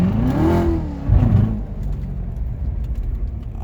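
A Corvette C7 Z06 fitted with an aFe intake airbox revs once with a throaty rise and fall, then settles into a loud, rumbling idle, close by.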